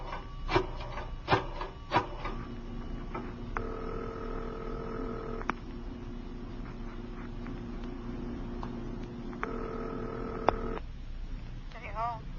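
An old telephone in a phone booth is handled: a few sharp clicks and clunks of the receiver, then two stretches of sustained dial-tone-like humming with rubbing, scraping noises in between, close and fairly quiet.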